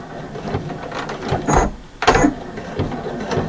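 A sewing machine stitches down the sides of a fabric bag in short mechanical whirring bursts, with two louder runs in the middle, close and clear with no talk.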